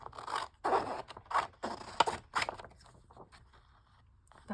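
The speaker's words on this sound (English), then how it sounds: "And cut a long rectangular strip." Scissors cut a long paper strip from a seed catalog, a series of close, crisp snipping and slicing strokes with pauses between cuts.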